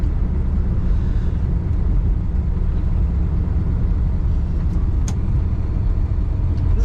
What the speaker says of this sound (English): This is a great running car.